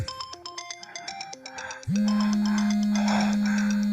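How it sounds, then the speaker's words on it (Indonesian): Mobile phone ringtone ringing, a bright melodic sequence of electronic tones that gives way to a sustained loud buzzing tone, close and clear with no voices. "handphoneku berdering."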